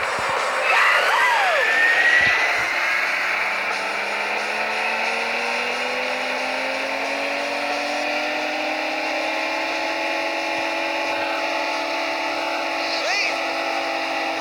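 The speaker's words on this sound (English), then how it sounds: "Gentlemen, start your engines." Racing car engines in the mobile game City Racing 3D, several synthetic engine notes droning and rising in pitch together, loud and continuous throughout with a few brief clicks near the start.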